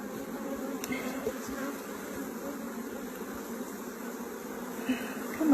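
A dense, steady hum of many honeybees swarming in one corner of a top bar hive, continuous and close with slight swells in loudness, with no talking.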